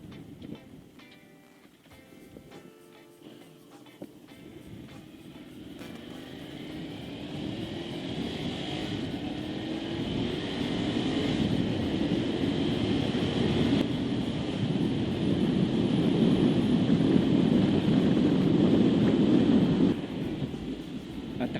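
Motorcycle ride into a headwind on rough, damaged roads, with a low engine drone and rushing wind buffeting the microphone, building steadily louder as speed rises.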